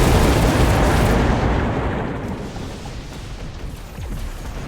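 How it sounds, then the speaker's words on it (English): A heavy missile explosion in the mech strategy game Mechabellum opens with a loud, broad blast that rumbles on and slowly fades into a dull roar. "Nice missile to stop the left rhino from that dive."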